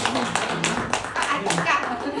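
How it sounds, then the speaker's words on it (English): A small group at a corporate presentation claps for a colleague, sparse and uneven hand claps close by, mixed with voices chatting over them. "give a round of applause to her"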